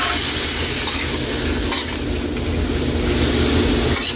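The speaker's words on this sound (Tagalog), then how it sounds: "Gigisahin lang natin to Kaylee. At ilagay na natin yung lemongrass." Lemongrass sautéing in a pan for pork dinuguan sa gata, giving a steady, loud sizzle with stirring that runs unbroken through the whole moment and has no talk over it.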